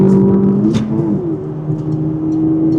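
An MG car engine revs hard uphill toward 6,000 RPM, a steady loud mid-pitched drone that climbs and holds, heard close from inside the cabin with no talking.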